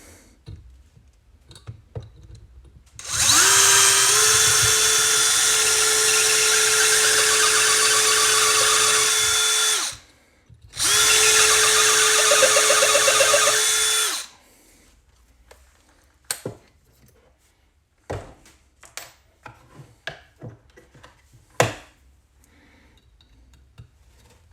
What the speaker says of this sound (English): Let's even try a bigger drill bit.